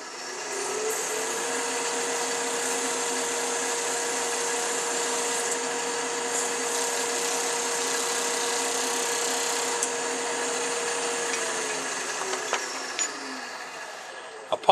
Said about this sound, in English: I'm going to take my wire burner and make those marks permanent